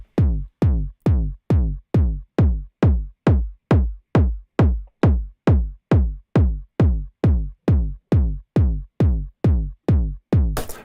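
Repeated plucked bass-like hits pass through the Coldfire distortion plugin as it sweeps between its algorithms, roughly two strikes per second, about twenty in a row, each decaying quickly, with the timbre gradually changing across the run.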